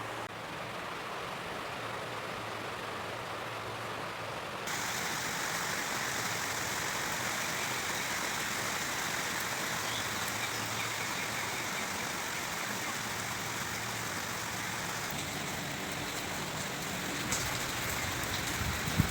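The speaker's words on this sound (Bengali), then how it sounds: "বাইরে প্রচণ্ড বৃষ্টি হচ্ছে" Heavy rain pours steadily outdoors on an afternoon, a dense hiss of drops on surfaces that swells louder after the opening seconds and stays constant, with no voices.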